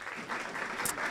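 An audience at an education gathering claps for a group of young girls, a short, steady wash of applause with no break.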